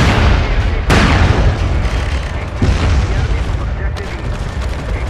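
Artillery strikes explode in a military video game, with a sharp boom near one second and another around two and a half seconds over dense rumbling battle noise and continuous gunfire; people talk over the radio throughout.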